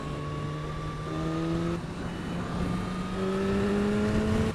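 A BMW S1000 motorcycle pulls hard in race mode, its close engine drone holding steady pitches with brief shifts between gears, loud and continuous with no talk.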